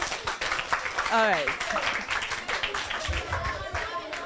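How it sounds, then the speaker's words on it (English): Children clap for themselves at a morning gathering, a scattered burst of hand claps mixed with voices and chatter nearby. "Okay, clap for yourselves."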